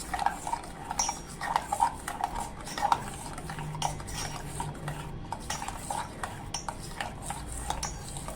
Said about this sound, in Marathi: पाव चमचा जिरं पावडर आणि पाव चमचा काळी मिरी पावडर आता हे आपण आहे ना व्यवस्थित असं मिक्स करून घेऊया